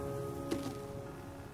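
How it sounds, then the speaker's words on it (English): Steady rain in the survival video game Flame in the Flood, falling as an even, close hiss across the whole stretch, with one brief brighter blip partway through and no voices. "I know it's raining."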